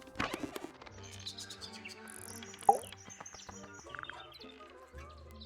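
Bird-like character theme music from the video game Tangle Tower, sparse plucked and chiming notes with soft cooing, chirping tones scattered over a quiet, gentle backing, no talking.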